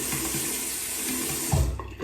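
Hot water running steadily from a sink tap during shaving, a close, continuous splashing hiss with a brief louder splash near the end.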